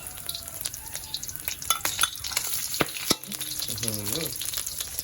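Curry paste stir-fries in oil with pork belly, a busy crackling sizzle with clattering spatula scrapes against the pan, and a brief voice in the background partway through.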